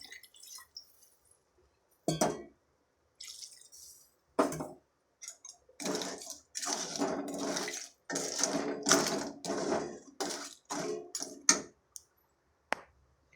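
Water is poured into crab gravy cooking in a pan, in irregular bursts of splashing and trickling with short silent gaps between pours.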